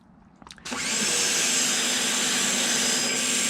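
A Ryobi automotive pressure washer kicks on and sprays soap: a short clatter, then a loud, steady broadband hiss of spraying water that holds continuously to the end.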